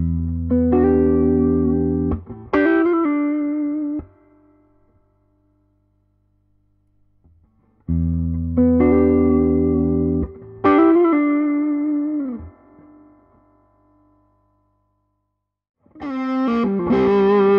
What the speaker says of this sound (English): here are some quick samples of the reverb and the drive channel